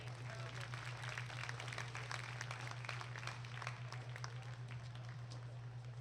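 Audience applause at a market goat showmanship contest: a steady, dense wash of many hands clapping for the full stretch, moderately loud, with a low electrical hum beneath.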